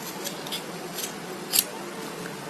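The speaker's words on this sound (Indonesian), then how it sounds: "Habis itu kita rapiin dulu pakai gunting." Scissors snip fabric while covered buttons are trimmed, several close, crisp cuts in a loose rhythm with one sharper snip partway through.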